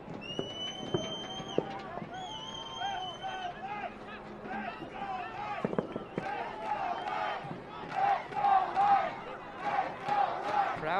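A soccer stadium crowd at a Las Vegas Lights FC versus El Paso Locomotive FC match roars and cheers, pushing for an equalizer. The sustained crowd noise swells toward the end while a commentator talks over it.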